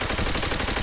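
Type 100 submachine gun fitted with a red dot sight firing in Call of Duty: World at War, a dense unbroken automatic burst that stays loud and continuous throughout.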